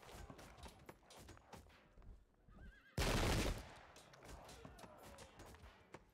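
Field of Glory II battle sounds: a horse whinnies and hooves clop amid scattered shots, then a sudden loud musket volley crashes for a moment before the clatter of combat continues.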